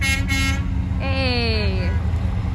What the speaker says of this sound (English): Beep beep honk honk.